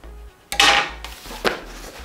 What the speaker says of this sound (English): Knife, cut.